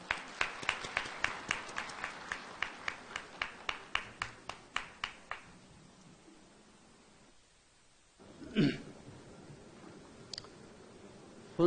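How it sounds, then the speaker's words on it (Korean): Clapping at a Wonkwang Digital University graduation ceremony, where a distinct run of evenly spaced claps lasts about five seconds, then fades into near quiet broken by a brief noisy burst. "큰 박수로 모시겠습니다."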